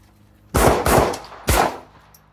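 Gunfire at an outdoor gun range: three loud, close shots in quick succession, the first two almost back to back and the third after a short gap, each with a brief booming tail.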